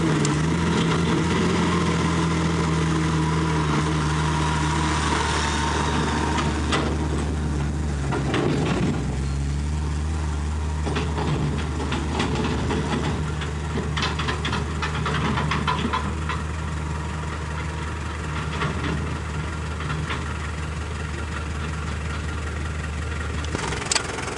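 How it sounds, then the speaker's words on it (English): A tractor on a farm in St Thomas, Jamaica, idles with a steady low, chugging engine rumble throughout, with some clattering and rustling noises over it and faint background activity. "Tractor, hey, turn around and get a tractor coming there."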